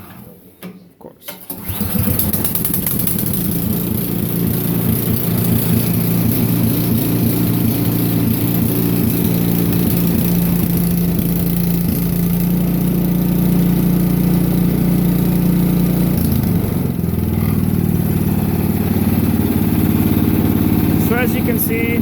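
Ariens Deluxe 28 snowblower engine starting and then running at low idle, a loud, steady, close-up drone that holds for about twenty seconds with a slight change in tone near the end.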